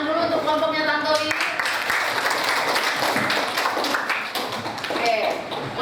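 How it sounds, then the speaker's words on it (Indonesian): Classroom students clapping for a group that just presented, a burst of mixed claps that builds and continues steadily, with a teacher's voice speaking briefly at the start and end. "Tepuk tangan dulu untuk kelompoknya Tantowi."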